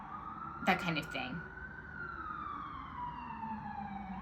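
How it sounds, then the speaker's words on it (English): An ambulance siren passes outside with a long, sweeping wail that slowly falls in pitch as it moves away, heard indoors and moderately faint behind a person speaking. "Sorry about the ambulance."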